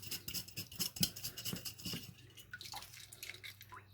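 A hard-boiled egg is shaken in a container with water, giving quick rattling knocks and sloshing splashes in a rapid uneven rhythm, close and fairly quiet, fading toward the end.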